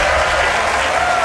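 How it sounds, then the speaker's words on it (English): An audience claps steadily at a NASA sample reveal event, a dense, loud wash of applause sustained for the whole moment. "don't be afraid to clap or cheer"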